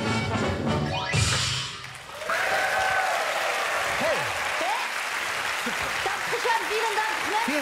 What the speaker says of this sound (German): Super Applaus.